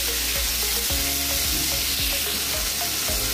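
Loitta (Bombay duck) fish frying in a pan with a steady, loud sizzle and a few soft clinks and scrapes spread across it, no voices present.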